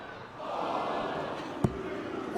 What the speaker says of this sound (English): Ironic boos from the crowd.